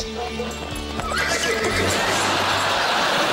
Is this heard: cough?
no